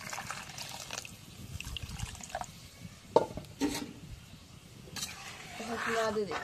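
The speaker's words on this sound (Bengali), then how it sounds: "এখন একটু পানি দিয়ে দিই।" Water is poured into a cooking pan holding potatoes and spices, with a trickle and splash rising near the end, while a voice speaks faintly in the background.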